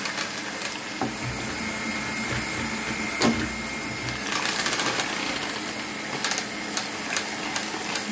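Orange juice glaze with gelatin being whipped by an electric mixer, a continuous close whirring motor hum with occasional clicks and knocks from the beaters against the bowl, no talking.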